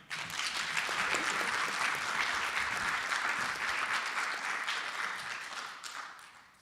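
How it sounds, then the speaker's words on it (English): An audience at a thought leadership event in the Eastern Cape claps warmly, a steady sustained round of applause that swells quickly, holds, then tapers off near the end. "can we please give this brave, valiant young warrior a round of applause?"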